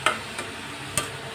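Ash gourd bhaji frying in a pan, heard as a soft steady sizzle broken by a few brief stirring clicks, close and fairly quiet with no talking.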